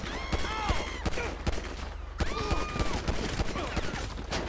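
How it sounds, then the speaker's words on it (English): Gunfire in a police shootout in GTA 5: a steady crackle of rapid shots runs throughout, fairly dense and mid-distance, with scattered bursts and tonal game effects but no clear voices. "It is a shootout."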